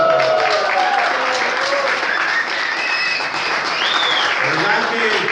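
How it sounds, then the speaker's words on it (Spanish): Congregation at a Sunday church service in Mexico, with brothers and sisters from Coatzacoalcos present, claps together in steady, dense applause that fills the whole stretch while a few voices rise faintly above it. "Un aplauso."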